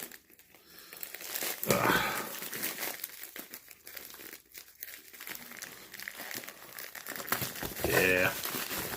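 A soft plastic mail package is torn and crinkled open with a knife in bursts, loud and close, while a person talks over much of the handling.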